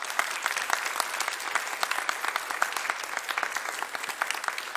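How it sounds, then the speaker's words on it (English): A church congregation gives its dads a round of applause. The clapping is steady, moderately loud and crisp throughout, with no talking over it. "Let's give our dads a round of applause today."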